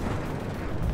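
Incoming artillery fire in the WARNO strategy game, a single short dull boom and rumble, moderately loud and heard alone.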